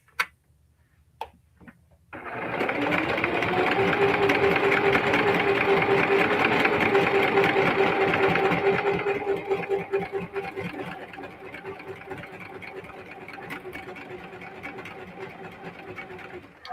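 A Singer Heavy Duty sewing machine stitches a crossbody bag in a steady, close mechanical whir with a fast ticking rhythm. It runs loud for several seconds, then continues at a lower, quieter pace.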